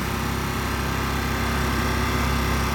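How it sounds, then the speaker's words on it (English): A small Honda 1000 inverter generator runs steadily after sitting unused for eight years, blended with a lawnmower droning across the street, together forming a constant, even engine buzz. "Lawnmower across the street is making more noise than this little generator."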